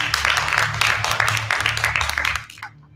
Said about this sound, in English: Let's give him just a hand clap of praise